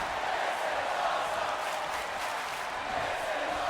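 A loud arena crowd at a televised wrestling triple threat match chants and cheers in one continuous roar with no pauses.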